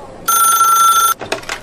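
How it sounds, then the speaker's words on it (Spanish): An old-style telephone bell rings loud and steady for nearly a second in a Spanish radio drama, then stops and is followed by brief clattering handling sounds as the receiver is picked up. "Disculpe un momento, tengo que atender ese teléfono."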